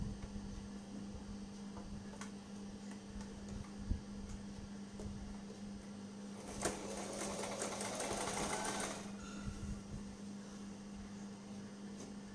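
A sewing machine stitches baby frock fabric in a long straight seam, with a close, steady mechanical whir and a louder fast run partway through over a constant low hum.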